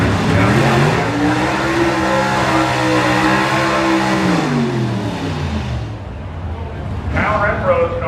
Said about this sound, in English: you heard when he let off the gas how slow the engine was to wind down